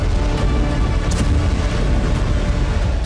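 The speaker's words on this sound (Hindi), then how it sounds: "एक बार फिर गैस पाइपलाइन में धमाके हुए।" A gas pipeline explosion in Russia, seen in news footage, comes through as a continuous loud, low rumbling roar with a sustained booming quality throughout, with no voices.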